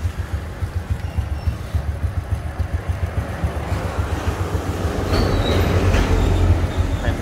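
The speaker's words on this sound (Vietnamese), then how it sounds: "Đó, cái máy này anh em nghe nè." Honda RS 100 motorcycle engine idling and revving up close, a steady rapid low throb with a rhythmic pulsing beat that grows louder and fuller toward the end, no talking.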